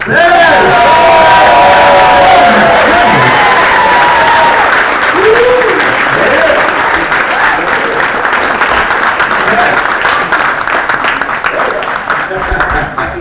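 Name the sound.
audience applause for Leatherface actor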